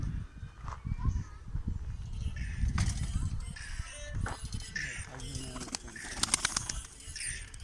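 Racing pigeons coo softly in a loft amid rustling and occasional wing flaps, with people talking nearby over the birds.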